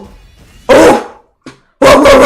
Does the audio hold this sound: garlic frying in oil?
no